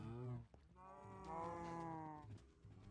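Video game cows mooing on a farm, several drawn-out moos in a row, close and clear, a low-level murmur underneath.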